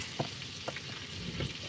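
Chicken fried steak sizzles in a frying pan in a truck camper, a steady dense hiss with a few soft clinks and stirring taps.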